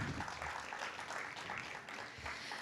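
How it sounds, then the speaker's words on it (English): Applause from an evening book-launch audience honouring storytellers, a dense steady wash of clapping that holds evenly for a few seconds without a break. "So let's give them a round of applause."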